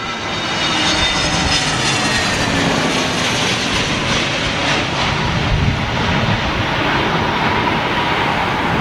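An Airbus A320neo jet arriving at London Heathrow in stormy wind gives a steady, loud, broad engine roar mixed with wind rush that holds evenly for the whole stretch, with no talk.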